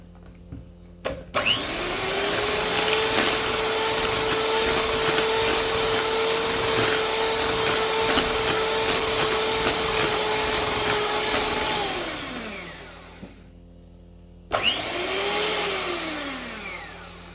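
Electric hand mixer whisking egg yolks, a loud continuous motor whine that holds steady for about ten seconds, winds down, then starts again briefly near the end.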